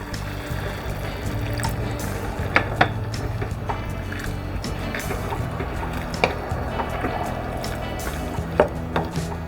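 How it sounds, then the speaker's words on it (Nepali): Water is poured into a pot of chana aloo curry to make the gravy, producing a continuous close trickling and splashing with occasional clinks of a utensil. "अब कतिको ग्रेभी खाने हो त्यो अनुसारले पानी राखौँ।"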